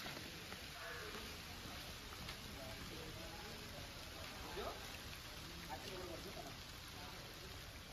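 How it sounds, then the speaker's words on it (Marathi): Steady rain falls at the ancient Kanheri Caves in Sanjay Gandhi National Park, Borivali, a constant dense wash of drops on surfaces and foliage close by, with faint voices mixed in. "पाऊस चालू तर"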